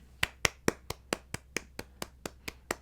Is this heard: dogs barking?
no